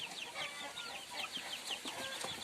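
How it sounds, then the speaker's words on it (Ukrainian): Several chickens clucking and squawking together in a steady, busy chorus, fairly close, with no talk. "кури розкричалися, щось кричать"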